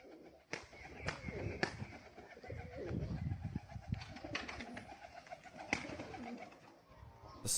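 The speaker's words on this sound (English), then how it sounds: "This is called a tumbler pigeon," A tumbler pigeon coos in soft, repeated low phrases, with sharp clicks and rustling scattered throughout the clip.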